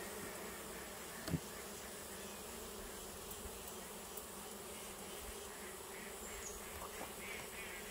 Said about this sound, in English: All right, let's see if we can get these bees back down in there.